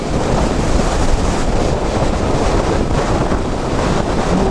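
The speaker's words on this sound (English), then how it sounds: "Currently sort of into this wind." Steady, loud wind roars across the microphone as a small motorboat heads into the wind on lively open water, a continuous broadband rush with no letup.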